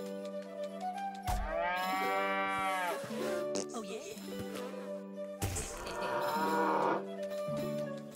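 Cows moo loudly in the South Park video game, in two long drawn-out calls several seconds apart, with voices talking throughout.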